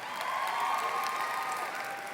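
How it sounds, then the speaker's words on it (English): A high school commencement audience claps steadily throughout, a dense, even wash of many hands in a large hall with no voices over it. "give her a round of applause"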